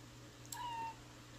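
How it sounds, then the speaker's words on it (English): A pet cat gives a single clear meow, drawn out for about half a second, close by against a quiet room with a steady low hum. "Say bye, Oreo. Meow."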